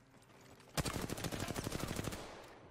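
Rapid automatic gunfire from the Apex Legends video game, a sudden burst of quick evenly spaced shots rattling for over a second before trailing off, heard alone without talk.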